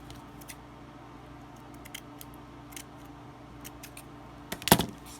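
Scissors make a few short, crisp snips through paper for a mini doily envelope craft, one louder cut near the end, heard close in an otherwise quiet room.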